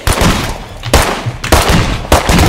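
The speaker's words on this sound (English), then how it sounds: "It's just non-stop gunfire!" Rapid bursts of gunfire in the zombie-apocalypse video game State of Decay 2, loud repeated volleys with short gaps between them.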